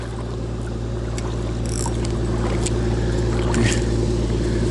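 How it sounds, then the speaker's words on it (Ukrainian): A dredger works on a river at a fishing spot, giving a loud, steady low mechanical drone that runs without a break, with faint splashes and clicks above it. "прямо на моєму місці працює земснаряд"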